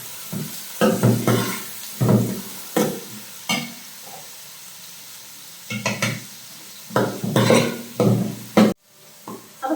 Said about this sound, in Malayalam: നീളത്തിലായിട്ട് 2 സവാള നന്നായിട്ടൊന്ന് വഴറ്റി കൊടുക്കാം